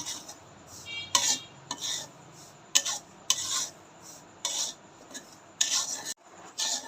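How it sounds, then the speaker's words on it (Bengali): Semolina with a pinch of salt dry-roasting in a pan while being stirred, heard as a series of close, bursty scraping strokes of a spoon against metal, separated by quiet pauses and with no talking. "সুজিটা একটু লাল লাল করে ভেজে নেব"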